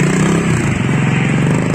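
Motorcycle engine running steadily on a cold ride, a loud close drone with a rough, throbbing rumble and faint clatter, no voices.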